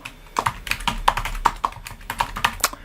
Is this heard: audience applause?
no